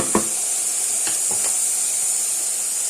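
Fresh fava bean dish cooking in a pot gives a steady close hiss and sizzle, with a few faint stirring clicks and clinks from the pan.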